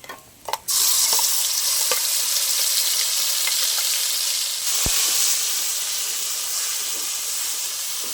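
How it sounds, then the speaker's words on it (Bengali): Chili, coconut flesh and onion paste dropped into hot oil, giving a loud, steady sizzle and hiss after a brief clatter, with a few stirring scrapes over about eight seconds and no talking. "তার থেকে অল্প একটু দিয়ে দেবো গরম তেলে মিক্সিতে যে আমি পেস্টটা করে নিয়ে এসেছিলাম লঙ্কা নারকেলের শাঁস আর পেঁয়াজ একসাথে দিয়ে দেবো"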